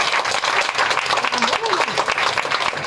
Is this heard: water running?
no